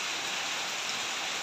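Steady rain pours down continuously, a dense even hiss of drops with no breaks, close and fairly loud throughout.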